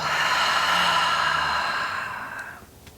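A long, deep exhale during gentle yoga breathing, a steady breathy rush that fades out after about two and a half seconds, close and alone.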